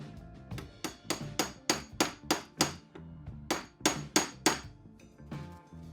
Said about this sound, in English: While this is still compressed, I'm going to put it into the joint here, just using a hammer.